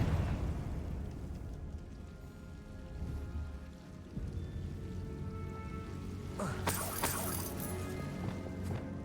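A Confringo spell in Hogwarts Legacy detonates as a sharp fiery burst near the end, breaking over a steady low rumble of game ambience.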